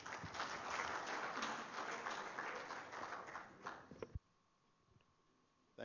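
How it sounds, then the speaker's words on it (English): Applause from the audience at a TB and leprosy stakeholders' conference, a dense, sustained clapping for about four seconds that stops abruptly into near silence. "Another round of applause"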